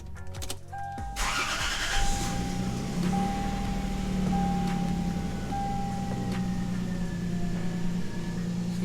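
A Lexus GS300 engine cranks and fires up after about a second, then settles into a steady, fairly loud idle with a faint high whine that holds throughout.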